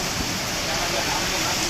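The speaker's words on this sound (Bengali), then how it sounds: "প্রচন্ড বৃষ্টি।" A heavy downpour falls in a thunderstorm, a continuous close wash of rain noise with no pause or change in intensity.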